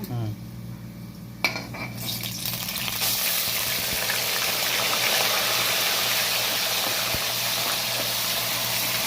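Ground onion paste goes into a hot pan for a Tamil-style fish curry. A short metallic clatter comes first, then a loud, continuous sizzle and hiss of frying that lasts to the end with no voices.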